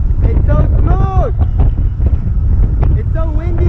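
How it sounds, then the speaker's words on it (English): Wind buffets the microphone while riding a Yecoo GT all-terrain electric longboard down a big hill, a steady low roar running throughout, close and loud, with people talking over it. "It's so windy."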